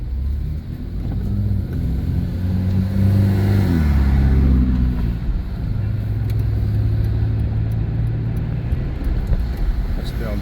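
Steady road traffic rumbles along Tomb of the Kings Road in Paphos, Cyprus, with a loud, close engine drone that rises as a vehicle accelerates past before settling back into a continuous low roar.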